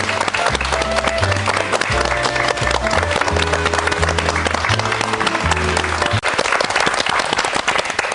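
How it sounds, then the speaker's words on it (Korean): A studio audience on a Korean morning talk show applauds warmly to welcome three internet-star guests. The dense, steady clapping runs for about six seconds over a bright music cue, then thins out. "큰 박수로 환영하겠습니다"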